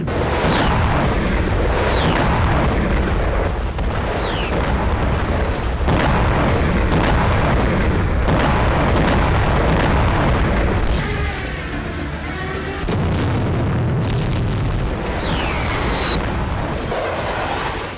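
Loud, continuous roar of heavy blasts and rumbling booms from a drone attack, with whistling descending tones cutting through, dense and chaotic throughout.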